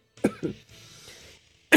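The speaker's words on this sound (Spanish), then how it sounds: "La tos." A person coughs near the microphone, two quick harsh coughs followed by a breathy pause and a third sharp cough, heard during a Free Fire gaming stream.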